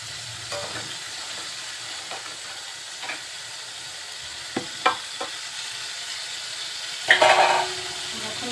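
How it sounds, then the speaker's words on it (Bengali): Spices with turmeric are stirred in a frying pan in oil, with a low sizzle under scattered spoon scrapes and taps against the pan and a brief louder clatter near the end. "হলুদের গুঁড়ি, সব কিছু এখন খুব ভালোভাবে নেড়ে চেড়ে নেব।"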